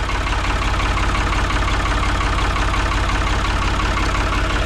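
Engine of a 1992 spider lift running steadily at idle in gear, a constant low rumble with a slight knock, close and loud throughout with no talk.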